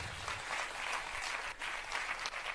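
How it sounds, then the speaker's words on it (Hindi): Audience applause at a Bundeli cultural gathering, a dense sustained clapping from a crowd that holds steady throughout at moderate loudness, with no voices. "एक बार हम अपने बुंदेलखंड के लिए जोरदार ताली बजाएं"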